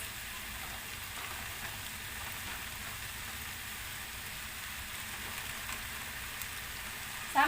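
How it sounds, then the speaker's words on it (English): Sprouted beans frying in a pan give off a faint, even sizzle, a soft continuous hiss like light rain that holds steady for several seconds, ending with a small clatter. "now I will add the sprouted beans"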